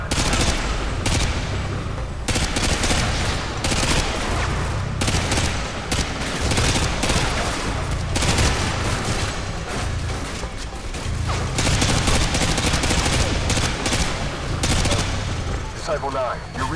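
Heavy automatic gunfire fills a Call of Duty: Modern Warfare 2 firefight. Loud machine-gun bursts and overlapping shots continue without a break throughout, and soldiers shout orders over the shooting.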